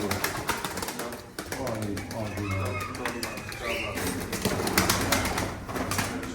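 Pigeons coo and flutter close by at a Turkish pigeon auction, with several people talking over the birds throughout.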